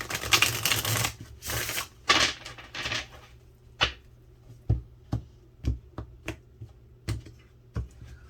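A tarot deck is shuffled close by, with dense papery riffling bursts for the first few seconds, then a string of sharp, separate card taps and snaps spaced about half a second apart.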